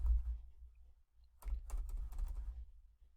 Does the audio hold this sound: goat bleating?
no